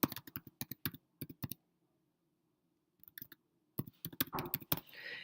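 Bursts of quick keystrokes on a computer keyboard as an address is typed, close and crisp, with a pause of near silence in the middle before a faster run of clicks resumes.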